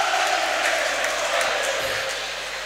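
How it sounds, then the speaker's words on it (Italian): A basketball arena crowd applauds steadily for a player injured under the basket and carried off on a stretcher during a Serie B game, producing a dense, sustained wash of clapping and murmur that fades slightly toward the end. "l'applauso di tutto il Palaborrelli"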